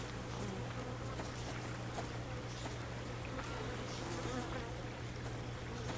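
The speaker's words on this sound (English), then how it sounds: "I hear honeybees." Honeybees buzz around a tree outdoors: a continuous, even hum from a swarm, steady throughout and moderately faint, with no talk.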